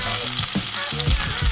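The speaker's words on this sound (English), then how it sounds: "go ahead and add in just half of your red onions. And then all of your white onions." Half the red onions and all the white onions hit a hot pan and fry with a loud, steady sizzle while being stirred and scraped, heard up close with no voices.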